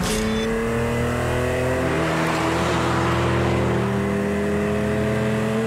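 Raspy, metallic howl of a BMW M1's 3.5-litre inline six as it revs, steady and loud for several seconds with a sustained climbing drone and no talking.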